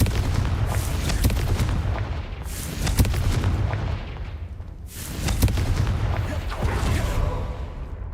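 Repeated Confringo fire-spell blasts in the video game Hogwarts Legacy boom out as heavy, loud explosions in quick succession over several seconds, each burst rumbling before the next hits.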